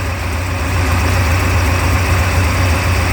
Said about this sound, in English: It's a nice stout little engine.